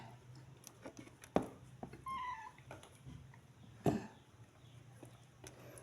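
A cat gives a short, thin meow in the middle, with occasional soft knocks and scuffs around it and a quiet background.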